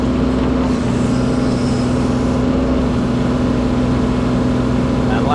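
An excavator's diesel engine drones steadily and loudly as the machine is moved up and levelled, a constant close rumble with no breaks.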